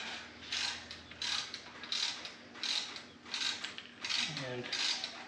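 A wrench ratchets while torquing bolts on a trailer axle, producing about six rhythmic bursts of quick metallic clicking, each stroke separated by a short pause, heard close and fairly clear.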